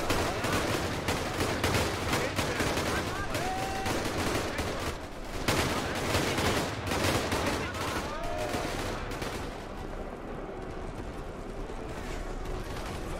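Battle chaos in Ultimate Epic Battle Simulator: dense, continuous gunfire and explosions rattle without pause, loud and crowded, with faint shouting mixed into the din.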